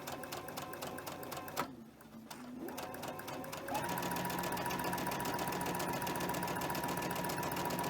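A sewing machine chain-pieces quilt blocks for a heart-block mystery quilt, running in a steady mechanical hum near the mic, pausing briefly, then resuming at an even, faster pace.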